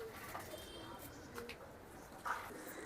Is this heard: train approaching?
no